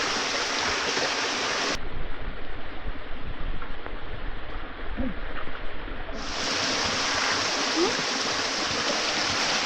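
A strong, rain-swollen water current rushes past in a steady, loud, broadband flow that stays close and continuous throughout, with no pauses.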